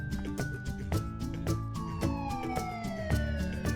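A police car siren wails with steadily sweeping tones, moderately loud and continuous, over a busy background of other layered sounds.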